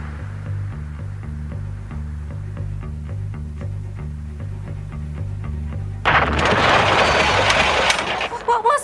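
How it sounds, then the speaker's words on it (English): A bomb blast in a radio drama hits suddenly after a stretch of low droning background, a loud, broad roar that shakes the building and rumbles on for a couple of seconds before fading. "A bomb. Must have been. Oh, the whole building shook."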